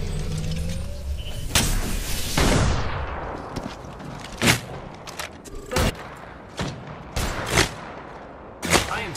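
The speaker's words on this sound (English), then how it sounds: "I am taking fire, friends." Gunfire in the Apex Legends video game rings out as sharp, separate shots spaced irregularly through the clip, following an earlier burst of rushing noise, with no talking.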